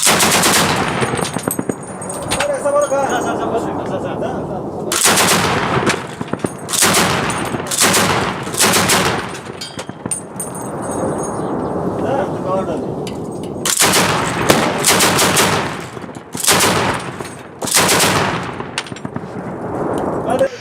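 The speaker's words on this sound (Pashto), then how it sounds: "خو دا ډزې ډېر کله لومړی د پاکستان لخوا پیل کېږي" Heavy and light weapons fire is exchanged at the Torkham border crossing between Afghanistan and Pakistan, in loud repeated bursts of automatic gunfire separated by brief lulls, with occasional voices underneath.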